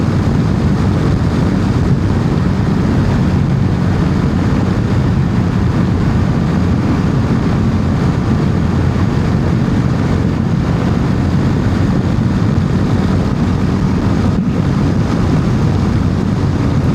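Riding a motorcycle on a cool, overcast day; steady loud rushing wind and engine drone fill the whole stretch without pause, with no talking.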